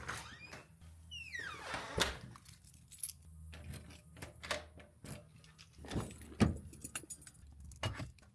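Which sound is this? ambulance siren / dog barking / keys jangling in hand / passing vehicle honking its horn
keys jangling in hand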